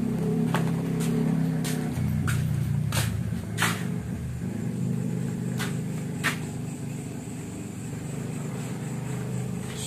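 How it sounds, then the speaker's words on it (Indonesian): Motorcycles on a busy main road, a continuous low engine drone that swells and fades as bikes pass nearby, with a few sharp clicks scattered over the first seconds. "Masih banyak motor sini teman-teman."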